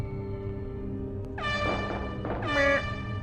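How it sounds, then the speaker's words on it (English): Two loud blasts of a cartoonish air horn in the Resident Evil 2 N64 game, harmonic and brassy, arriving about a second apart over a steady low game hum. "It's such a silly air horn thing."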